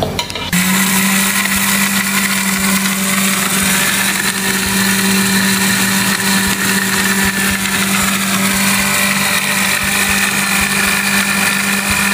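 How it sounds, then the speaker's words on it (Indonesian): A dry blender grinds roasted seasoning loudly and steadily for the whole stretch, a constant high-pitched motor whine with a harsh rattling texture. "Hasilnya kemudian kita blender dengan blender kering"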